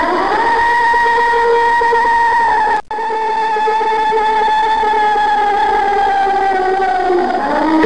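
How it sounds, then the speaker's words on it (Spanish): An alleged Bigfoot howl, recorded by campers in Washington state, rings out as a loud, sustained, wavering tonal cry with slowly gliding pitch, briefly cut by a sharp dropout before continuing. "El sonido que están escuchando se dice que proviene de un pie grande."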